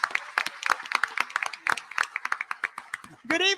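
Audience applause welcoming a television news anchor at a gubernatorial candidate forum, a dense run of clapping over about three seconds with voices mixed in, ending as a speaker begins to talk.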